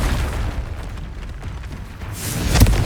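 A Confringo explosive spell blast in Hogwarts Legacy, a dense rumbling boom that swells with a bright crackling burst near the end, loud and close with no voices.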